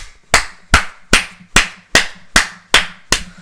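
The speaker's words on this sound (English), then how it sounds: "Can everybody just get a round of applause for Scott?" Evenly spaced sharp claps, about eight in a row at a steady beat, each a crisp close hit with a short decay, sounding like one person's slow rhythmic clapping rather than a full crowd.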